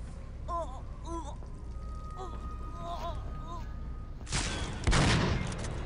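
Gunfire from the first-person shooter Aliens vs Predator 2, played as a Marine: a sharp burst of rapid shots erupts near the end and grows louder, after a stretch of quieter, warbling game sounds.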